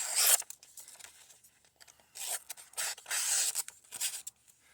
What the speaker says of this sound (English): Let's get some paper. Let me mess up the first couple of cuts.